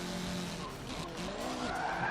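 An Eagle Talon's tires squeal and skid under heavy braking in Forza Motorsport 7, a brief, loud screech over the roaring engine.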